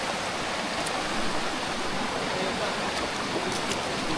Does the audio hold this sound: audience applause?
no